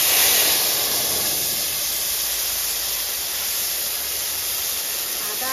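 Ginger, poppy seed and green chilli paste spattering in hot oil flavoured with cumin after frying fish, a dense continuous hiss and crackle, loud and close, with no voices.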